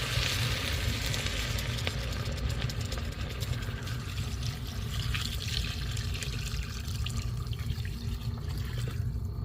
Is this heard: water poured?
yes